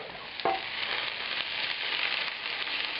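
Diced shallot, bay leaf and garlic fry in a pan for shrimp with mushrooms in wine and cream sauce, a steady bright close sizzle with a brief clink near the start.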